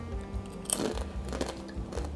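Close, crisp crunching and chewing of a crunchy snack mix made with crushed Indomie ramen, with a sharp bite followed by a steady run of crackly chews.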